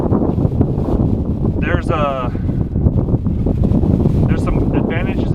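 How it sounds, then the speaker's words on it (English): Strong wind buffets the microphone outdoors beside a pop-up camper in winter, a loud continuous rumbling roar that gusts throughout while someone speaks briefly over it. "whoa, got windy"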